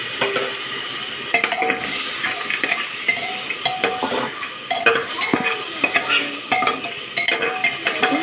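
Small tengra fish fry in hot oil with a steady sizzle, while a utensil stirs and scrapes against the pan in repeated clinking strokes, close and loud.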